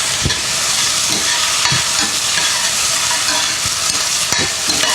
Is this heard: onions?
yes